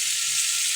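Fish with eggplant and potato sizzling together in a pan, a brief steady hiss of frying, close and even.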